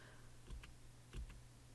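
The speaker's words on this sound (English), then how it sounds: "I can just hit the down arrow on my keyboard" Down arrow key pressed twice on a computer keyboard while browsing fonts, two soft, close clicks about half a second apart over a faint steady hum.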